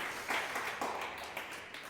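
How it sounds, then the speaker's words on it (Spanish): A church congregation claps for the Lord during a service. The applause is faint and distant, with a few uneven surges in a short, quiet burst. "denle un aplauso al Señor"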